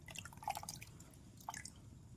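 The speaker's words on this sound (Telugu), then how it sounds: "ఇది నార్మల్గా ఉన్నది ఇలా బురద వాటర్లో ముంచుతున్నాను నేను" A piece of cloth dipped in muddy water drips a few times, with soft isolated drops heard close up against a quiet background.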